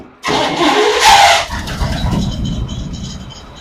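A 1952 Ford engine, on a jump pack because the battery is dead, cranks and catches abruptly, flares loudly for a moment, then settles into a rough, fluttering idle close by.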